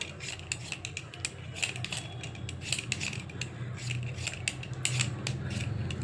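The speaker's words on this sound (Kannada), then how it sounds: "ಈಗ ಇಷ್ಟನ್ನ ಸಿಪ್ಪೆ ತೆಗೆದಿದ್ದೀನಿ. ಇನ್ನೂ ಒಂದು ಆಲೂಗೆಡ್ಡೆನ ನಾನು ಸಿಪ್ಪೆ ತೆಗಿತೀನಿ" Close, dry scraping and clicking of a peeler working over new, muddy potatoes, quick repeated strokes in an irregular rhythm with no voices.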